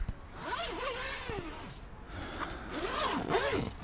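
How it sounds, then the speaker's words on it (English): Zipper on the door of a Wildcoast Sundog rooftop tent being unzipped, several drawn-out rasping pulls close up, with a quieter stretch between strokes. "So that just simply unzips, and then you have full access to the car without having to go outside"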